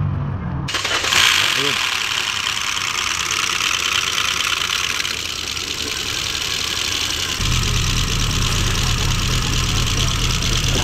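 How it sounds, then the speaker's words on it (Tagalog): A 2014 Hyundai Accent engine, just after an oil sludge cleaning, cranks briefly, catches and settles into a steady, somewhat noisy idle that continues loudly, with someone talking over it. "Ngayon mga boss, papaandar rin na po natin to."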